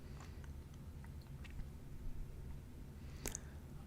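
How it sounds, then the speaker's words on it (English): Someone chews food close to a microphone during a livestream, with scattered wet, crunchy bites and soft clicks over a low background hum and no speech. "Are the chewing noises loud?"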